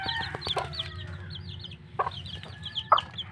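Backyard chickens raised for eggs and meat cluck and chirp close by, with repeated short calls and peeping chicks over a steady low background hum.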